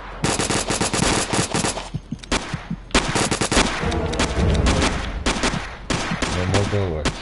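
Bursts of rapid gunfire from the video game Alekhine's Gun, loud, dense and close, rattling in long volleys with only brief gaps between them.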